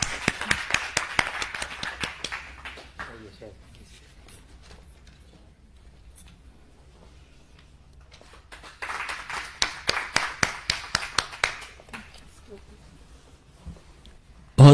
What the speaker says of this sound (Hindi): तालियां, स्वागत कीजिए